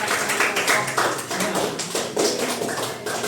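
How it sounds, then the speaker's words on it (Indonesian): Classroom applause for a student group during a school Islamic studies lesson: a dense patter of many small hands clapping at once, steady and fairly close, with no speech over it. "Tepuk tangan bagi kelompok."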